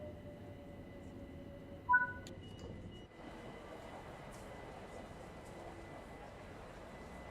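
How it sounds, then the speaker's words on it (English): A Class 378 electric train passes in Train Sim World 5 on the Mildmay Line, a steady rumbling rail roar with brief high tones, heard alongside continuous cab noise. "Look, there's a 378 coming the other way."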